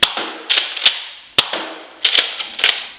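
A homemade Nerf Deathdealer 2.0 dart blaster fires a quick run of sharp, loud snapping shots with mechanical clacks between them, irregularly spaced and close up, with no talking.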